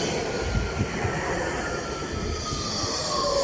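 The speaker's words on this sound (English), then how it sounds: "Tram number 210 is departing with a Nottingham Express" Nottingham Express Transit tram number 210 departs Basford with a steady rolling rumble and rising electric whine, ending in a faint high squeal, heard alone at moderate distance.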